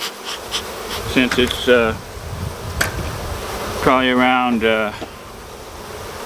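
A gentle Africanized honeybee colony, re-queened with a Saskatraz queen, gives off a steady close buzz that runs under a voice as he talks.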